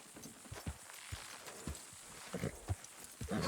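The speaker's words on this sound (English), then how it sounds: "You gonna pull that horse, or I gotta give it a kick?" Horse hooves clip-clop in Red Dead Redemption 2, a handful of distinct, fairly close hoof strikes at an uneven walking rhythm over a quiet background, with no voices.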